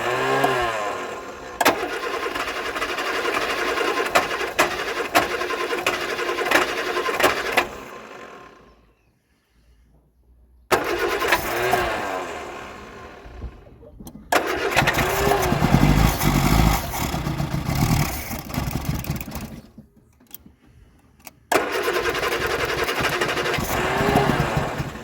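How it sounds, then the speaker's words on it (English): A 1975 Vauxhall Viva HC with a 1256 engine cranks repeatedly without firing, in long steady bursts of starter churn separated by short silent pauses. "Car still wasn't starting here."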